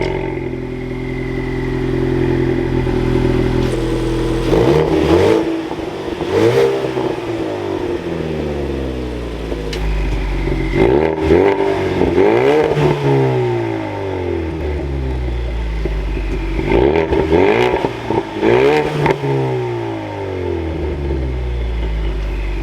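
A 2022 Ford Mustang EcoBoost High Performance Package starts with a loud crank, settles into a steady idle, then gets blipped through several sharp revs that rise and fall near the exhaust, with no talking.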